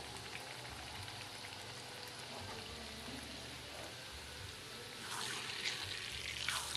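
Semolina and milk paratha frying in oil on a medium flame, a soft continuous sizzle with light stirring that grows louder and brighter near the end.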